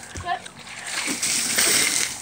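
A big splash of a bucket of cold water dumped all at once on a person, followed by spattering and dripping, with a voice briefly audible before the pour.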